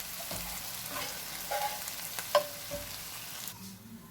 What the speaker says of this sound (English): Just giving it a quick stir right now.